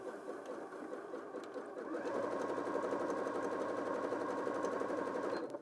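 A Janome M100QDC sewing machine stitches a zigzag, starting with a few quiet clicks before breaking into a fast, even, rattling hum that runs for several seconds and then stops abruptly.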